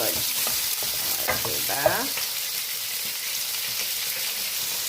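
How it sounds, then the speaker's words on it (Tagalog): White onion sautéing in a pan, a steady bright sizzle throughout with a few scraping stirs and clinks near the start, and a brief spoken word. "Igisa muna natin itong white onion, itong Holland."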